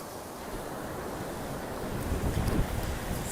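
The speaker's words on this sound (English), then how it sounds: "I'm going to show you what it's like to walk in the water." Atlantic Ocean waves wash around someone wading in the shallows, a steady rushing surf with wind buffeting the microphone and a louder surge toward the end.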